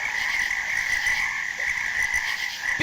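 Frogs croak steadily and continuously as a sound effect, a dense chorus of raspy calls that stays loud throughout, with no talking.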